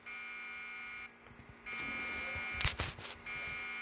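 Alarm buzzing in the Roblox game Break In Story, sounding as a loud steady electronic tone that cuts out, returns and repeats, with brief thumps and a short noisy burst partway through.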